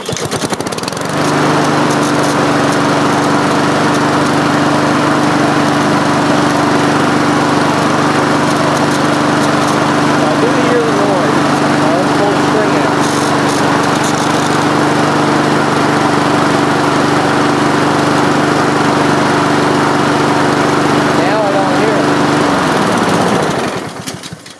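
A small engine with a freshly repaired recoil starter runs steadily and loud for over twenty seconds with a constant buzzing drone, then cuts out at the end.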